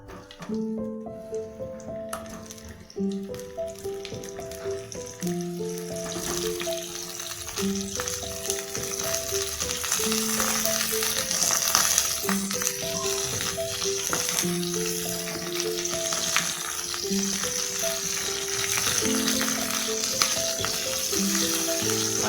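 Cauliflower florets fry in hot oil for a vegetarian cauliflower roast, giving a loud, continuous sizzle that builds after a quieter start, with steady crackling throughout and soft background music playing underneath.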